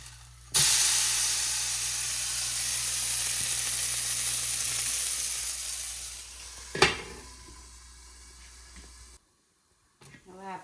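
Gujarati handvo, a savoury batter cake, sizzles and fries steadily in a hot pan after being flipped, a loud continuous hiss with a brief clatter near the end before the sound cuts off.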